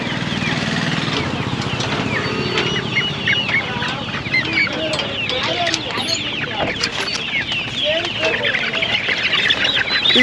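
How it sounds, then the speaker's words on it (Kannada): Dense clucking and fowl chatter of Giriraja chickens, including large hens, fill the scene continuously at a poultry market, with people talking faintly underneath at a steady, busy level. "ಗಿರಿರಾಜ ದೊಡ್ಡದು ಇದು ಗಿರಿರಾಜ ಕೋಳಿ ದೊಡ್ಡದು ಹೆಣ್ಕೋಳಿ ಇವು"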